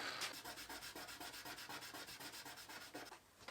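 A knife handle is sanded by hand with 400 grit sandpaper in steady back-and-forth strokes, a close, regular rubbing rhythm with no talking.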